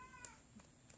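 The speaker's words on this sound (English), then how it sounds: "If you hear the meowing, it's because my kitty cat is over here trying to get in on some attention" A pet cat lets out a single very faint, short meow at a distance, barely rising above a quiet room hum.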